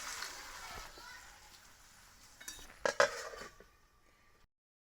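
A pot lid clinks and scrapes as it is lifted off banana flower cooking on a clay stove, a few brief metallic knocks after a soft hiss, with speech in the clip.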